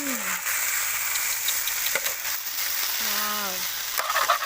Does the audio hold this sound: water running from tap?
no